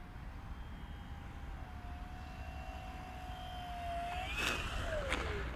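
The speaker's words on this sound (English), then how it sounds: "That's a nice landing." HobbyKing balsa Tiger Moth RC model plane, 1.4 m span, landing: a faint, distant engine drone fading and dropping in pitch as power comes down, over outdoor background noise.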